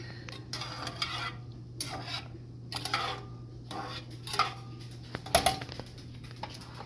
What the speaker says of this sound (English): stir that really quick